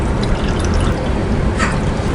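Dissolved jaggery water being strained, a close, steady pour and trickle of liquid running through a strainer, with a brief splashier surge near the end.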